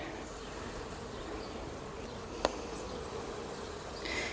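Steady insect buzzing from many honey bees around a hive being smoked fills the air, continuous and close, with a brief sharp click partway through.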